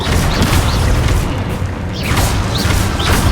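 Booming magical blasts from an Expulso explosion spell in Hogwarts Legacy, a dense, loud rumble of repeated impacts and bursts running throughout with sharp swooshing flares between them.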